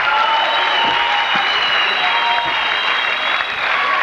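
Audience at a junior league KVN comedy final in a culture hall applauds loudly as the teams walk on stage, dense continuous clapping from a large crowd throughout.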